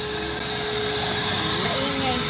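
A vacuum cleaner runs during a deep clean of a home, giving a steady whine with a constant tone and rough rubbing and scraping underneath, close and loud, for a couple of seconds.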